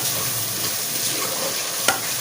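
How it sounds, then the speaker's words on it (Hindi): Beef sizzles steadily in a hot pan for a dal mash beef recipe, a constant loud frying hiss with soft scraping of stirring and one sharp clink of a utensil near the end. "अभी इसको भून लेते हैं और साथ में हमारी माश दाल"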